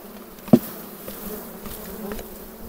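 Honeybees buzzing inside a hive, a queen-rearing starter colony, giving a steady close hum with a brief knock just after the start.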